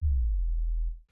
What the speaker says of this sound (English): So here's a sub bass drop that I created.